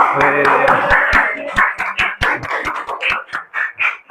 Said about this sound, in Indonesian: tepuk tangan buat Septian ini ya